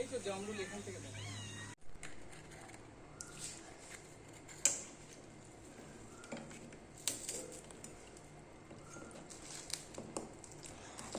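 Kittens meow in short, thin cries at a moderate distance, with light tapping and household clatter around them in a quiet outdoor setting.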